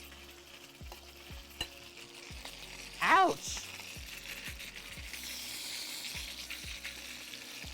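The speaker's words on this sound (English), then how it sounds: "I'm gonna check on this chicken skin in a sec here. Now that we have crazy sizzles," Brick chicken skin sizzles and fries in a pan with a soft, constant crackle, broken by regular faint clicks and a short loud exclamation from a person partway through.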